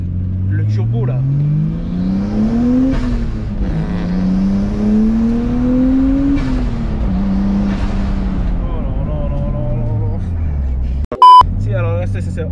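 A turbocharged car's engine revs repeatedly, rising and falling in pitch through several sweeps, loud and close, with a sharp electronic beep near the end and occasional voices beneath.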